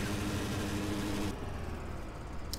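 Tractor engine in Farming Simulator 2013, a steady close rumble that cuts off abruptly partway through, leaving a quieter hum.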